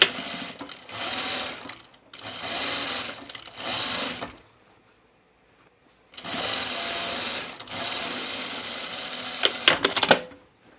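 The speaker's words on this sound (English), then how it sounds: "I will still do the French seams on the side seam pocket" A sewing machine runs French seams on the side seam pockets of a dress in two loud, close bursts of rapid stitching, separated by short pauses and a longer silence, ending with a few sharp clicks.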